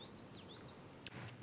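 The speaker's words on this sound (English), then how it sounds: "pair of dark-eyed juncos snapping at me" Dark-eyed juncos give a few faint, high, thin call notes close by near a nest on a Maine trail, with a short sharp snap near the end over a low hum.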